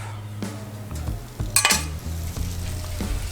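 Beef hits an oiled 36-inch Blackstone griddle for cheesesteak, with a loud close sizzle and short metallic spatula scrapes and clanks, one bright spitting burst in the middle.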